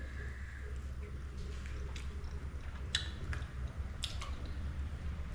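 Banana fritters (pazhampori) dipped in beef curry and eaten up close, with soft wet squishing and chewing bites plus a few sharper crunchy crackles over quiet background hum.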